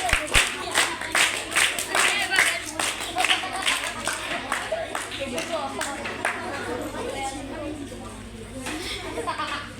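An audience at a school science day quiz competition claps rhythmically for a correct answer, with loud, close applause mixed with chatter and talking that slowly settles.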